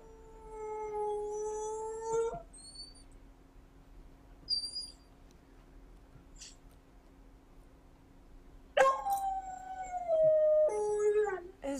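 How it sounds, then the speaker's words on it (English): A dog left alone at home howls in long, wavering, mournful cries, one drawn-out howl fading out early, a quiet stretch with faint yips, then another sustained howl rising and falling near the microphone. "that's when I recorded her howling"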